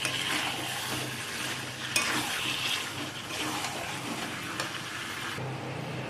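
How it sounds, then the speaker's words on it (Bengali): Chicken curry with fried potatoes added, stirred and mixed in a pan, giving a steady scraping and sizzling sound with occasional clinks of the utensil against the pan. There is no talk. "এখন এর মধ্যে ভেজে রাখা আলুগুলো অ্যাড করে দেব। দিয়ে সব কিছুকে আবার একসাথে মিক্স করে নেব।"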